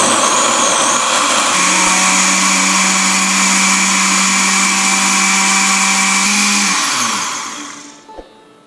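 An electric blender grinds a wet spice mixture of oil, water, salt and sugar for a Mughal fish dish, a loud steady whirring roar up close that winds down near the end, followed by a small clunk.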